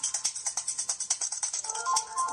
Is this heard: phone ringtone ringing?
yes